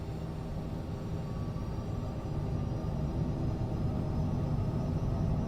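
A Cessna Citation CJ3 business jet starts its takeoff roll from runway 26 left at Fort Myers in Microsoft Flight Simulator, a continuous jet rumble that grows slightly louder as the roll goes on.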